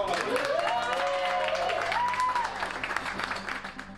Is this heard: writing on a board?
no